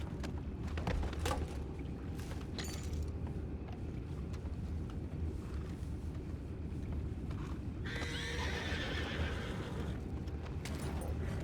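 Horses in the video game Red Dead Redemption, with a whinny and the steady clip-clop of hooves over a low outdoor rumble, fairly close and continuous, with a brief breathy neigh toward the end.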